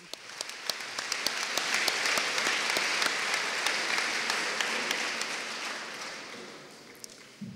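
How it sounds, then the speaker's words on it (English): An audience claps for a trio of singers after their song, a steady, even wash of applause that swells briefly and then tapers off toward the end. "Let's give them another cheer"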